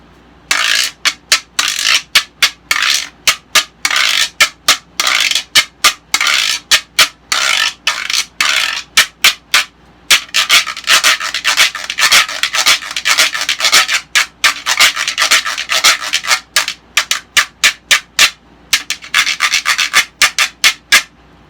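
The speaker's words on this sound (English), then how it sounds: "by rubbing it or scraping it, you get that sound" A güiro is scraped with a stick in rapid rasping strokes, repeated in rhythmic bursts with short pauses, loud and close.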